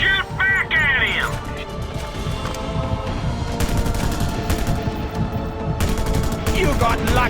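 Rapid gunfire bursts crackle in a Just Cause 2 battle, with repeated loud shots layered over a dense, continuous game soundscape, while a voice speaks partway through.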